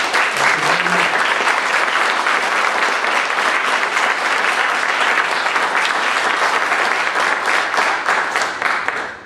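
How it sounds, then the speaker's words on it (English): An audience at a school board election candidates forum gives a sustained round of applause, loud and dense from start to finish before tapering slightly at the very end, with no voices over it. "let's all give them a round of applause"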